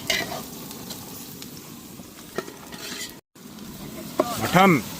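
Mutton curry being stirred in a pot over an outdoor fire in a palm oil farm, a steady scraping and bubbling sizzle with a few clinks, a voice briefly heard near the end.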